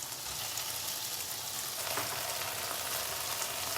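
Sliced tomato hits a hot frying pan as egg and bunapi mushroom stir fry cooks, giving a steady close sizzle with a bright hiss that swells slightly partway through.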